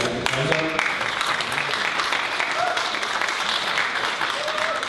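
Audience applause at a council candidates forum, steady, dense clapping sustained across the clip, fairly close, with some voices mixed in beneath it.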